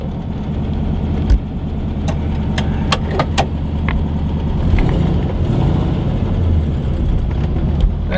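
The engine of a 1983 Volkswagen Fusca (Beetle) runs at a steady, close idle, with a few sharp clicks and taps sounding over the continuous low rumble.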